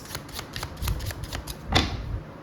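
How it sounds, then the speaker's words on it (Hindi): Tarot cards are drawn and slid from a deck, a quick series of light papery flicks and snaps ending in one sharper card slap, close and fairly quiet. "मैं यहाँ से एक कार्ड और लूंगी।"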